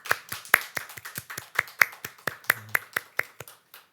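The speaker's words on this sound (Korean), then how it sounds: "우리의 찬양을 기쁘게 받으신 주님께 감사와 영광의 박수를 올려드리겠습니다" A church congregation at a Sunday worship service claps in a light, steady rhythm of sharp individual claps, close and fairly quiet, with no talk over it.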